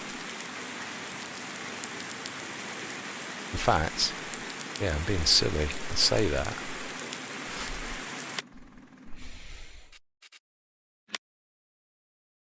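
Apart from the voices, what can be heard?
rain in a video game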